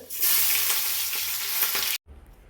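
Mustard seeds and fenugreek spluttering in hot ghee with a little coconut oil, a loud close crackling sizzle for about two seconds that cuts off abruptly, then a quieter low hiss.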